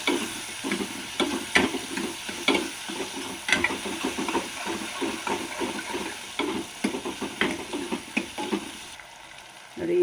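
Sliced onions sizzle in a pan for a Kannada buttermilk curry, a steady close hiss broken by regular scraping taps of a spoon stirring them, the sizzle thinning near the end.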